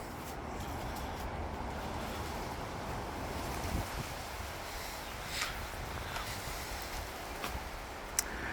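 Wind gusting outdoors in wild, damaging weather over a backyard orchard of stone fruit trees, a steady broadband roar with buffeting on the microphone and a few sharper gust peaks, no speech.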